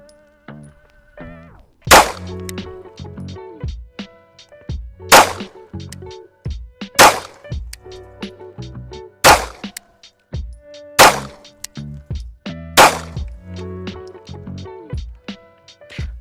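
A pistol emptying a full magazine at a shooting range, about seven sharp, loud shots spaced unevenly around two seconds apart, each followed by metallic clatter and ringing.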